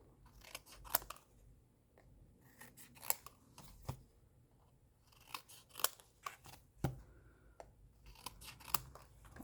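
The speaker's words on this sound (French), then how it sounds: "Donc pareil, on coupe nos petits angles." Scissors snip off the small corners of paper while making a star-shaped paper album, a quick run of crisp, close cuts in uneven bursts with short pauses between them and no talking.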